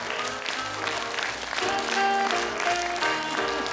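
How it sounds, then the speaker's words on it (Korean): An audience applauds after a children's Jungle Book performance at a daycare, a steady wash of many hands clapping, close and moderately loud, with a sustained musical tone and faint voices underneath. "박수 크게 쳐주세요"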